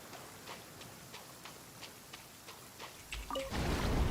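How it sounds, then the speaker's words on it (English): Steady soft patter of rain in Genshin Impact, a constant hiss with faint dripping ticks, thickening into a louder wash near the end; no one speaks. "It's raining again?"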